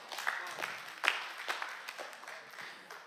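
Light, scattered applause from a church congregation, a few uneven claps popping out of a quiet room, sparse and hesitant rather than a full ovation.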